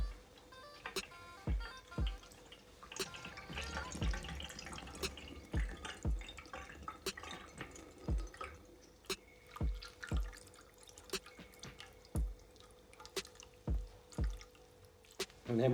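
Chicken wing stock drains through a strainer, with clear separate drips and small splashes falling at an irregular, unhurried pace over a soft trickle, close and fairly quiet.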